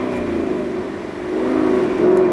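Manual Ford Mustang GT engine bogs low on launch, then climbs into a louder rev, a close, continuous rising drone.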